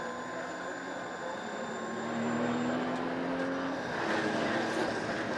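Porsche GT3 Cup race car on the final lap at Pukekohe, heard on board as a steady, loud engine drone that climbs in pitch through the gears, with faint commentary underneath.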